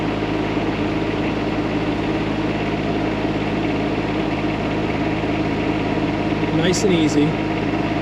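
Kubota diesel engine on a HUAYEE SHY12 mini excavator with a variable displacement piston pump, running at a steady idle-like drone with constant low vibration, and someone speaking briefly near the end.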